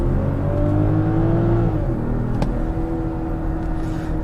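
A BMW X7 xDrive40i engine revs while the SUV accelerates, a steady close-up drone whose pitch climbs and then holds, with no talking.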